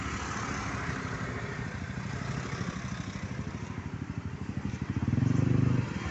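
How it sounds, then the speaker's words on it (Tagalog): Many motorcycles gather at a pay parking area in the mountains, their engines idling and puttering in a steady close rumble, rising louder near the end; a voice talks faintly at times. "Daming motor."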